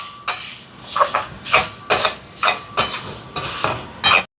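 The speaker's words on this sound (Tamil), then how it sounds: "இதை வந்து கைவிடாமல் நல்ல ஒரு பொன்னிறமாக வறுத்தெடுப்பேன்" Grated coconut is stirred and roasted in a dry pan for rava laddu: loud, rhythmic scrapes of a spoon sweeping across the metal pan at about two strokes per second, each with a faint dry rustle, close and with no talking.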